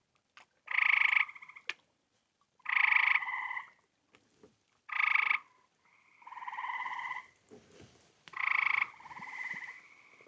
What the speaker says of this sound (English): I stopped to listen to some frogs.